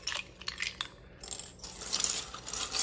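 Apex Pro TKL keyboard keycaps dropped into a container of cold water, making a quick run of light clattering clicks that settle, then a second, busier burst of plastic rattling, close by.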